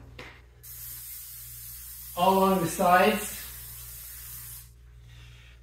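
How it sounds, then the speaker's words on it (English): Pam cooking spray hisses onto the chute of an Ariens snow blower in a steady aerosol stream lasting several seconds, with someone speaking briefly over it partway through. "another little trick I like is Pam. So I'm spraying all the chute"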